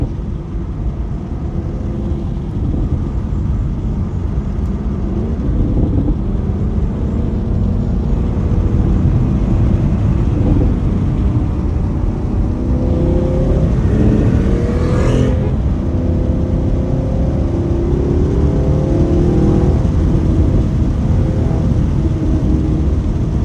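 A tuned Camaro SS drives through late-night street traffic, its loud engine rumbling continuously from inside the car. The revs rise and fall as it accelerates, with a brief sharp rise partway through.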